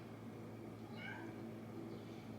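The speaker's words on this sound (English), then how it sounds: "this cat is literally crying at the door to get back in now." A cat cries at a door to be let back in, giving one or two faint, drawn-out meows over a steady low room hum.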